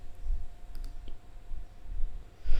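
Computer mouse clicks, a few sharp, close clicks spaced irregularly over a quiet room hum, with no talking.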